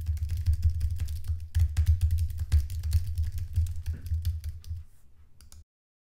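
Steady typing on a computer keyboard, picked up by a HyperX SoloCast microphone: dense, continuous clicking keystrokes at close range, slowing toward the end before stopping abruptly into silence.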